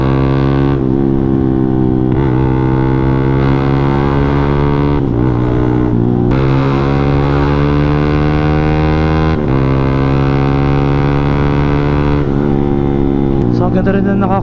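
A Yamaha Sniper 155 motorcycle with a racing ECU and dyno tune revs hard toward its 12,500 RPM redline on a highway, a loud steady engine whine rising in pitch with brief gear-shift dips.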